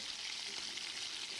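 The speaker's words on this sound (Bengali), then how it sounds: "নাড়তে থাকছি, দেখো কত সুন্দর করে নাড়াচাড়া করে নেব" Chopped onions sizzling and frying steadily in a pan while being stirred, a continuous close hiss with no talk.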